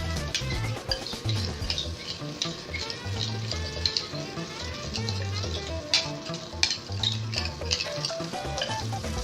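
Butter melts and foams across a frying pan with a steady close sizzle, while occasional clinks of utensils and a faint running tap sound in the background.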